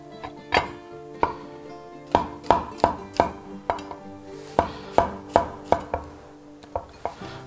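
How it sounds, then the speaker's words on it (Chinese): A knife slices button mushrooms on a cutting board, producing a series of crisp, close chopping taps in an irregular rhythm, about a dozen strokes with no talking. "口蘑直接清洗过切成片就可以了"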